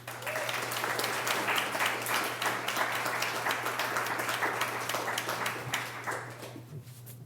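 Audience applause welcoming author Fred Vogelstein at a library story-hour talk: steady, dense clapping from a crowd sustained for about seven seconds before thinning out at the end.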